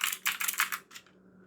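Fingers type on a new EVGA computer keyboard, a quick burst of close, crisp key clicks that stops abruptly, followed by near silence with no talking.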